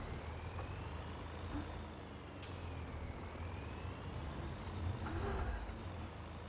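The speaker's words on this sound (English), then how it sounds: "Wow, I like this lorry." A lorry drives in the video game Farming Simulator 22, its engine a steady, low drone throughout, with a brief sharp hiss like an air brake partway through.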